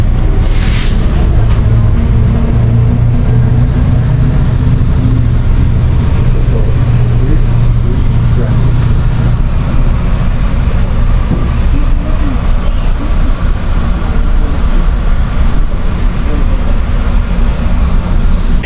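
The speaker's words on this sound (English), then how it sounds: "I'm on the train right now going to Union Station." Steady, loud low rumble inside a moving train heading to Union Station, Toronto, with constant mechanical drone and rattling throughout, no pauses.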